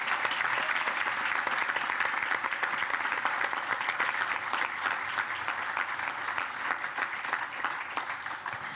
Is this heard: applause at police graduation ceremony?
yes